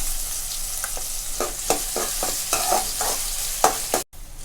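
Onions frying in a pan for a groundnut kuzhambu, with repeated scraping stirs of a spoon cutting through a steady sizzle at close range.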